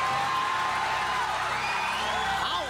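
A television studio audience at a talk show anniversary taping screams and cheers in a sustained, dense roar of high-pitched voices, loud and steady throughout, with a rising whoop near the end.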